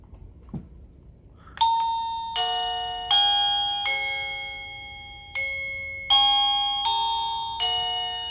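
A short click, then a series of wireless doorbell chime tunes from a unit with 36 melodies, each a bright ringing melody cut off and replaced by the next, loud and close.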